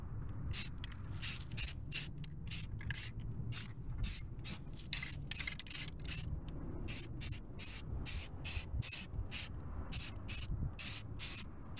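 Aerosol spray paint applied to wheels in rapid short bursts, a hissing spray pulsing on and off in quick regular rhythm over a low background hum, close and without talk.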